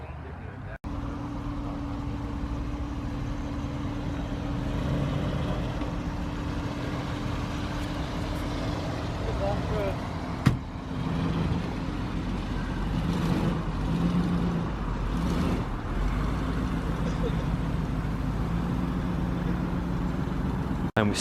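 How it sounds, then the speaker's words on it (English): Cars pull in at a car meet, with a continuous low engine drone from nearby vehicles and a single sharp knock, while someone talks over the sound. "And we still have cars turning up"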